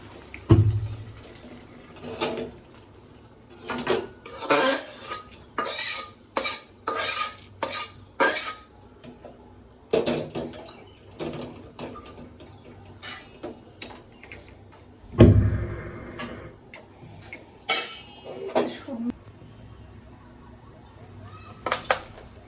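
A pot of boiled lai greens is lifted off a village-style stove, with irregular metallic clanks, scrapes and knocks of cookware spread across the stretch, some sharp and close, with quieter handling between.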